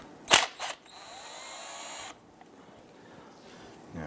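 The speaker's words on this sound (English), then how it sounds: "We're gonna go ahead, loosen and remove this nut first." A wrench loosening and removing a 10 mm nut on the starter of a 1994-2004 Ford Mustang 3.8L V6, with a couple of sharp metallic clicks followed by a faint, steady mechanical rasp, close and quiet.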